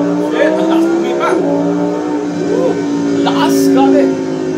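Lamborghini sports car accelerating hard, its engine drone holding steady and loud throughout with rising harmonics, while excited voices cheer and shout over it.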